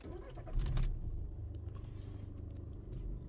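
A VW Golf Mk6 engine cranks and catches, rising briefly before settling into a steady low idle rumble nearby.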